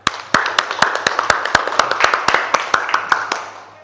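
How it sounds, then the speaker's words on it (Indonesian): A class in an Indonesian Islamic religious education lesson claps together in a crisp, evenly timed rhythm, about a dozen sharp unison claps at a steady pace in a roomy space. "Beri tepuk tangan."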